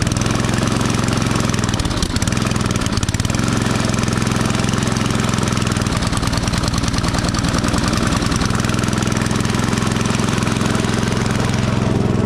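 A vintage Ariens snowblower engine runs close and loud, a steady chugging small-engine idle with rapid regular firing pulses that hold continuously throughout, with no talking over it.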